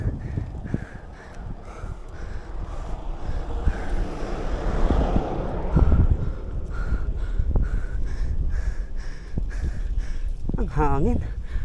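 Strong gusting wind buffeting the microphone during a long fixed gear bike ride on the road, loud irregular rumbling blasts with occasional faint voice and traffic in the background.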